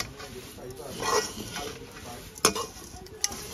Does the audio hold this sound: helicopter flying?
no